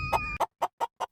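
A chicken clucks in a string of short, separate calls close by, with brief pauses between them; a low background rumble fills the opening moment.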